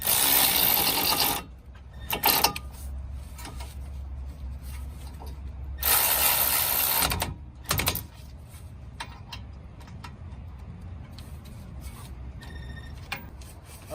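A Milwaukee power tool tightens brake caliper bracket bolts during a front brake job, giving two bursts of loud, gritty whirring and ratcheting, with scattered clicks and handling noises in between.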